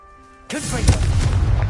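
A Confringo blasting spell in Hogwarts Legacy bursts suddenly after a brief tonal lead-in, then rumbles on as a loud sustained explosion.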